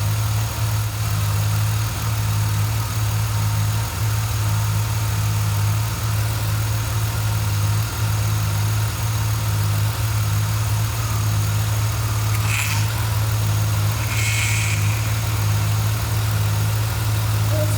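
A Chevrolet Impala V6 idles steadily with a low constant engine hum as the power steering is turned lock to lock, bringing a couple of brief higher whining strains late on, with no speech.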